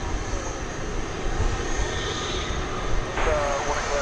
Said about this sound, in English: this one's going to Ontario, California. It's flight 761, it's an Airbus A300